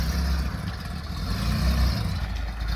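A new, zero-mileage test car's engine rumbles steadily at idle at the Modlin track, low and close, with a continuous mechanical hum and no voices.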